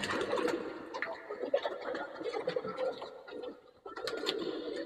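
A Marcopolo-line racing pigeon coos close by in soft, repeated throaty bursts, while someone talks over the calls.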